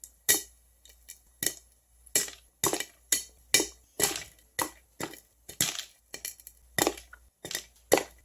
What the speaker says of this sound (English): after about 3 minutes into the popcorn mode, the corn starts popping